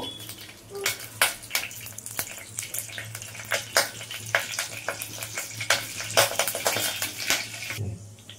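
Mung dal tipped into hot oil already holding broken dried red chillies, crackling and sizzling in the pan with scattered pops and stirring noises, fairly close, with no talk over it.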